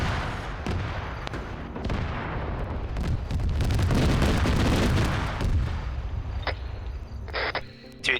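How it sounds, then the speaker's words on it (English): Rifle gunfire in the 506th mod of a combat game, rapid overlapping shots and heavy booming fire building into a dense roar, then thinning out into scattered sharp reports near the end. "What the heck are you shooting at?"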